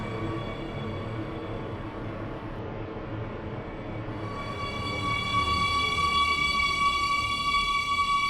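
SCR Metro R132 train in a video game, rolling toward a station platform with a steady rumble of wheels and motors that grows slightly louder, joined by high whining tones as it slows.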